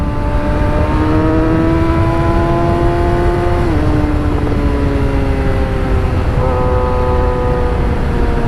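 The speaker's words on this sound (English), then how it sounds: "So as you can see, this bike picks up nicely." A Yamaha R6 motorcycle accelerates hard, its engine note climbing steadily through the revs, dropping briefly at each gear change and then rising again, loud and close throughout.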